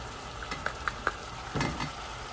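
Ground spices (turmeric, ground cilantro, paprika and black pepper) fry quietly in a pan with a soft, low sizzle, broken by a few light stirring taps and scrapes.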